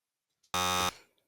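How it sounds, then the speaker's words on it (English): A single short electronic buzzer blast, loud and harsh, lasting under half a second, with a brief fading tail and no talking. "I love the buzzer. The buzzer's my favorite."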